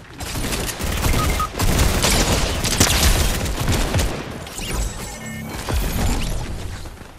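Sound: gunfire in the video game Fortnite

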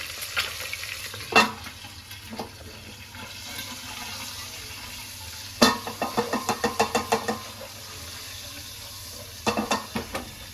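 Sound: frying eggs in a pan for egg biryani

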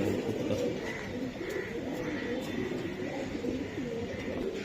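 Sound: racing pigeons cooing

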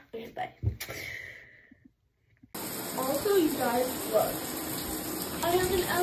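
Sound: shower water running

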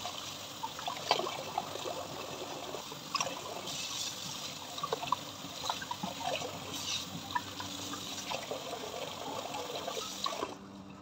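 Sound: water running while washing fruits

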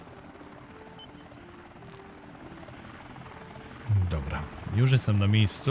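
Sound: helicopter flying and landing in 7 Days to Die video game

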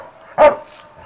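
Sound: detection dog barking confidently during a search

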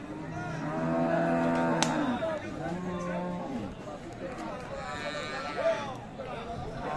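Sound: cattle mooing at a livestock market

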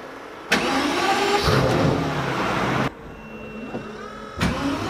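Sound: sports car engine starting with key

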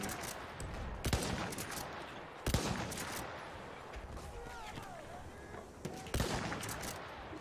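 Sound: gunfire in the Battlefield 1 video game

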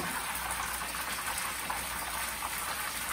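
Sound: tilapia fish frying in a pan

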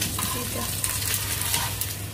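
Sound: egg frying in a pan (half fry)

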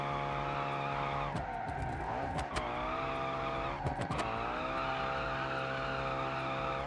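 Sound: car drifting with tire squeal, BeamNG.drive video game

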